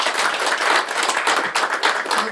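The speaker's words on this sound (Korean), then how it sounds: "큰 박수로 축하해 주시기 바랍니다" Dense, steady applause from guests at a signing ceremony for a residents' evacuation cooperation agreement in Gyeongsangbuk-do, many hands clapping together in a continuous, fairly loud burst with no voice on top.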